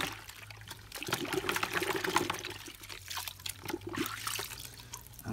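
An object, apparently part of a Rolls Rapide twin-tub washing machine, is lowered back into water, with close splashing, trickling and dripping that swell and fade over several seconds.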